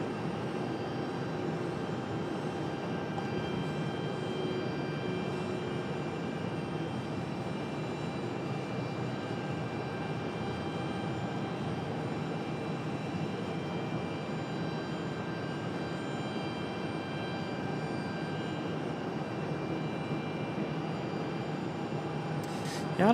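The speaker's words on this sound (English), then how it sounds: "Here comes our Frontier flight from San Juan, Puerto Rico." Frontier Airbus A321 airliner arriving from San Juan, Puerto Rico, at Raleigh-Durham, a steady distant jet rumble with faint whining engine tones sustained throughout, no voices.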